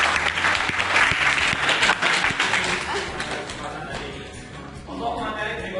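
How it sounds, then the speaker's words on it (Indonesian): A classroom group gives a classmate a burst of applause, dense clapping close by that gradually thins out over several seconds, with a voice speaking over the last part. "Berikan aplaus untuk teman Anda."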